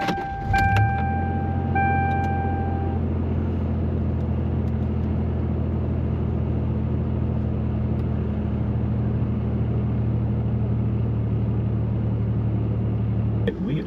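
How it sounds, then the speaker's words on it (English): A supercharged 1998 Toyota 4Runner engine catches on a cold start with a brief whirring crank, then settles into a loud, steady, close-up low rumble and idle that carries through to the end. "let's do a cold start on the Supercharged 4Runner"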